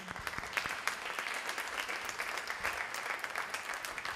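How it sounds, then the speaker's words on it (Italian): An audience claps for an honoree at an international book award ceremony in an indoor hall, a moderately loud, steady round of applause with sharp individual claps and no speech. "che è Elena Maria Martini, a cui farei un applauso."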